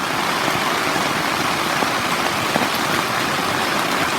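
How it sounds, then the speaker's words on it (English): Heavy rain drums steadily on a camping tent early in the morning, a dense, continuous hiss and patter close by with no pauses and no voices. "it's about 8 o'clock in the morning and we've got some heavy rain here"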